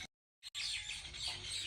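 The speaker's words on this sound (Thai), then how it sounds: "เสียงนกร้อง" After a short silence, faint birds chirp and tweet in the background of a morning garden, a soft high twittering outdoors.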